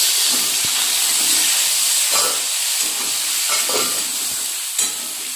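Tomatoes sizzling in hot oil with cloves and cinnamon, a steady hiss of frying with occasional stirring scrapes, close and constant throughout.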